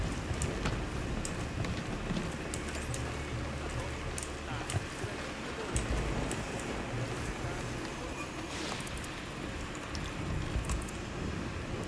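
Steady rain hisses and patters across the whole scene in the video game Tom Clancy's Ghost Recon Wildlands, with low rumbling underneath and scattered brief clicks and taps.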